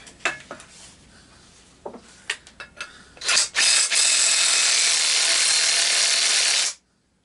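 Impact wrench removing a blade from a lawn mower deck spindle: a few scattered clanks and rattles, then a loud, sustained, close mechanical whir of the tool running for about three seconds before stopping abruptly.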